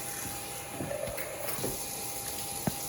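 Water runs from a water machine in a soft, steady stream with a faint pump hum and a few light clicks, heard close and fairly quiet without talk.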